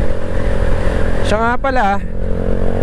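A motorcycle engine running at close range, a steady low mechanical rumble under someone speaking briefly in Filipino partway through.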